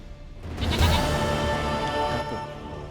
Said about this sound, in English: Got the doggone goat.